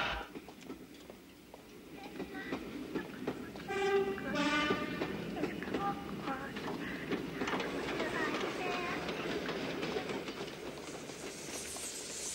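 Berlin S-Bahn train running on rails, a steady rumbling roll with faint clacks and brief whining tones as it travels, with a voice speaking over the continuous noise.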